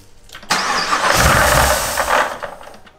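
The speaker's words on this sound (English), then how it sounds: "Hopefully it cranks this time. Will it start now?" A Camaro engine fitted with a Whipple supercharger cranks and sputters loudly for a couple of seconds, rough and uneven, then fades out without settling into an idle.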